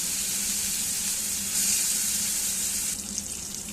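Green banana peel paste hits hot oil with black cumin, giving a steady loud sizzle and frying hiss that swells briefly midway and eases slightly near the end, with no voices.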